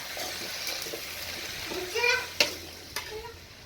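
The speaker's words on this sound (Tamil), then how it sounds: "இதை நல்லா மிக்ஸ் பண்ணி விட்டுக்குங்க. நல்லா வதங்கட்டும்." Maanthakkali greens sauté quietly in a pan, with soft sizzling and a few sharp spoon or spatula clinks against the pan as they are mixed, close and fairly faint.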